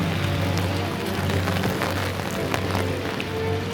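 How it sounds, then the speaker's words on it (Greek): Heavy rain falls on Paris streets on an autumn day, a dense, continuous hiss of drops with a low rumble of city traffic underneath, steady and moderately loud throughout. "Πίκνη βροχή."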